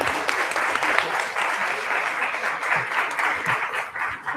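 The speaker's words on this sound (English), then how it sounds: "Please give a huge round of applause for them" A retreat closing ceremony crowd applauds its youngest participants with loud, dense clapping that stays even and sustained throughout, close and full, with no talk over it.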